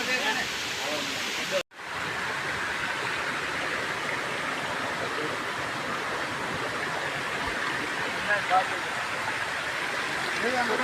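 Continuous roar of a rain-fed natural waterfall at Jatashankar Mahadev near Junagadh, Gujarat, steady and fairly loud, with faint talk mixed in.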